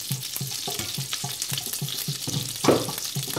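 Butter and oil sizzle and crackle in a pot while Persian rice with a crispy tahdig layer is prepared, with close, steady frying and a regular rhythmic scraping or stirring.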